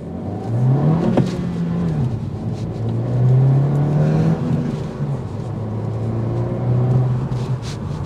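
A 2023 Honda Civic Si with a manual gearbox and 200 horsepower accelerating. The engine revs climb, drop briefly at shifts and climb again in loud, close, sustained pulls, with no speech.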